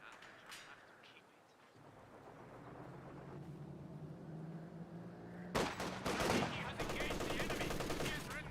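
MG34 machine gun fire in the World War II strategy game Company of Heroes 2: battlefield rumble building to loud rapid bursts of gunfire in the second half, with a commentator talking over it.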